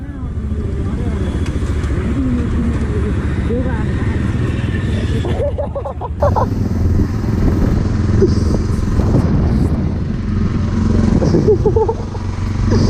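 A scooter engine hums steadily while riding, with wind rumble and people talking over it the whole time.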